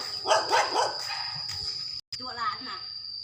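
A dog barks and yowls in a few drawn-out bursts close by, followed after a brief gap by softer whining cries, with a steady high tone running underneath.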